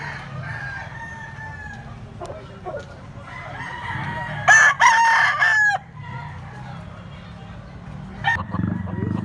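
A black-legged stag rooster crows loudly and close by, a single long call, with clucking fowl and a distant dog in the background.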